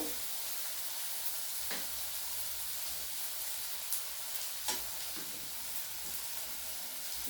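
Spices, including Kashmiri chili powder, fry for masala chicken in a constant, soft hiss, broken by a few sharp stirring clicks and no talking.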